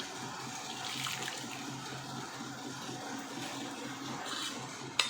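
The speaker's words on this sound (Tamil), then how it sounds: "தண்ணி ஊற்றுவேன்" Steady water pouring and splashing into a pot of rice for pongal, a continuous close rush of liquid without talking.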